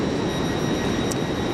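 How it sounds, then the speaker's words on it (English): A train bound for Liverpool, heard as a steady, even rumble with a constant hiss, uninterrupted throughout. "Our train to Liverpool."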